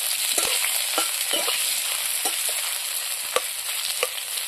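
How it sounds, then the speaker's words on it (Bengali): Onions, green chilies and dried fish paste sizzling and frying in a pan for a village-style gourd and dried fish curry, a steady hiss with occasional stirring scrapes, close and continuous with no talk. "লাল লাল না হওয়া পর্যন্ত আমি পেঁয়াজগুলো ভাজতে যাব।"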